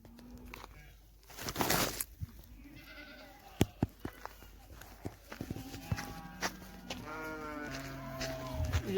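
Goats at a pen with berseem fodder bleat several times in short wavering calls, mixed with knocks and rustling nearby; the bleats grow more frequent toward the end.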